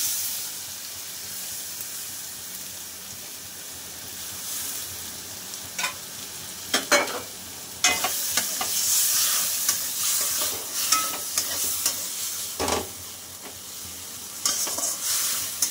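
Chili paste with cumin and ginger paste fries and is stirred in a pan, a low steady sizzle broken by bursts of spatula scraping and spitting, close and moderately quiet.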